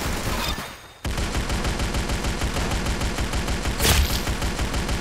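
Dense, continuous gunfire from the Roblox first-person shooter Arsenal, a loud rapid stream of shots that starts abruptly after a brief dip and keeps going without a break, with a sharper burst near the end.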